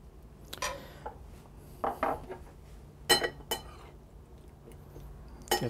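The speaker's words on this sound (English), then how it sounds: "Get that stirred up nicely." A spoon stirring pasta fagioli, an Italian pasta and bean soup, in a bowl: a handful of separate clinks and scrapes against the dish, close and fairly soft, spaced over a few seconds with no talking.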